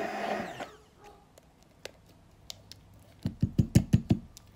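An immersion blender whirs in short, quick pulses as it mixes a homemade black rice water conditioner, the bursts near and fairly soft after a quieter stretch of handling noise.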